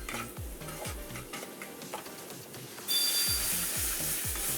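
Onion, garlic and ginger stir-fried in a pan: soft, rhythmic stirring scrapes, then a loud, steady sizzle that swells up and holds, close by with no voices.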